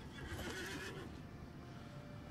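A horse neighs in the online game Lord of the Rings Online, a loud close whinny up front that fades into steady game ambience with faint hoof clatter.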